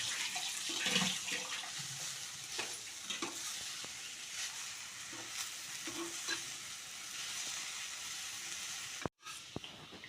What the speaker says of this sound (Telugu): సో ఇవి పుదీనా అండ్ జీలకర్ర బాగా అయితే వేగినాయి కరివేపాకు జీలకర్ర పుదీనా ధనియాలు